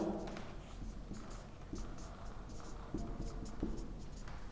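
Chalk or marker strokes scratch across a board as a chemistry example is written out, a steady run of short, close, moderately loud writing sounds with faint room noise and no speech.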